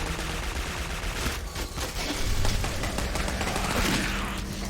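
Gunfire from a first-person shooter, Clive Barker's Jericho: a dense fusillade of overlapping shots and bursts runs steadily through, loud and continuous with battle noise beneath.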